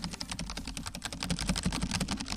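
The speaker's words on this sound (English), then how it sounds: "It's literally just like keyboard clicks." Computer keyboard clicks picked up by a Rocket League streamer's microphone: a rapid, continuous run of sharp, close key taps in an uneven typing rhythm, heard alone.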